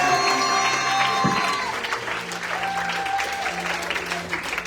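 A congregation at a church worship service claps and cheers in sustained, loud applause, with a crowd murmur and some tonal music underneath throughout.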